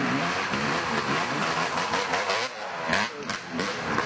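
A Yamaha motorcycle engine at a toy run event, revving and rumbling steadily at mid pitch with a few sharper throttle blips near the end, fairly close.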